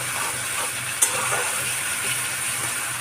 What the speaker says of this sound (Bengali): টমেটোটা দিয়েছি, দিয়ে কিন্তু ভালো করে ভাজতে হবে